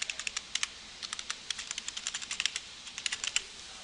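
A web address is typed on a computer keyboard in rapid, uneven bursts of crisp, close key clicks with short pauses between groups, with no voices.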